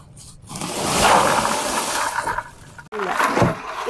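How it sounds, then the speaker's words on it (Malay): Bags of ice are tipped into a barrel of mango float cincau drink, making a loud rushing, splashing clatter that swells and lingers, then a short break and a second splashing surge. "lepas tu kita masukkan 2 beg air batu"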